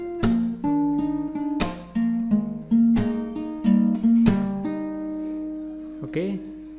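Acoustic guitar plays the second part of the intro to a song, mixing plucked notes with percussive string slaps in a steady rhythm, close and clear with no talking.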